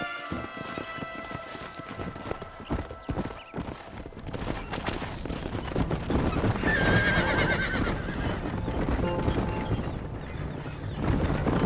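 Horse in the Red Dead Redemption video game whinnies loudly, then hooves clip-clop and gallop in a steady rhythm, joined by a rising rumble of movement and game music, with no talk over it.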